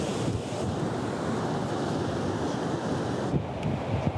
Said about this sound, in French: Aujourd'hui, les vagues, elles sont un petit peu grosses.